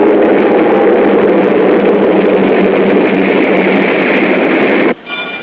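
A train roars past, loud and continuous with a heavy rumble, then cuts off abruptly near the end.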